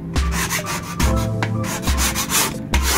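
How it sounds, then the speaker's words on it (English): A metal scraper rasps old wallpaper off the wall of an old RV in repeated close, loud scraping strokes, roughly four rhythmic passes with short pauses between them. "you just start scraping like that"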